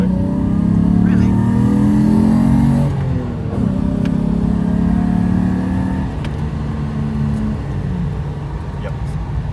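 Turbocharged car engine revving and driving past at a GTR festival in New Zealand, loud and close with rising and falling pitch sweeps amid crowd and other engine noise.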